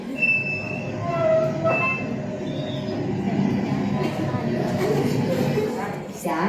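A train rumbles and rattles past a railway crossing, with brief high wheel squeals early on and a continuous close, loud rolling noise throughout.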